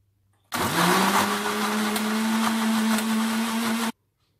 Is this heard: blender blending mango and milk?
yes